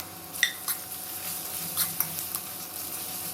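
Garlic and ginger sizzle with browned onions in a pan for a besan curry, with a steady frying hiss broken by a few sharp clinks and scrapes of stirring.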